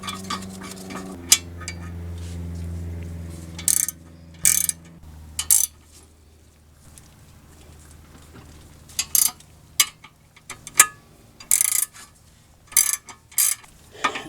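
Ratchet wrench clicking as caliper bolts with leftover thread lock are threaded in on a 2002 Mercedes-Benz CLK 430 during front brake work, in short bursts of close, sharp ticks separated by quieter pauses.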